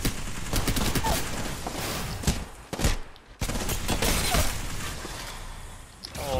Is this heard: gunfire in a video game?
yes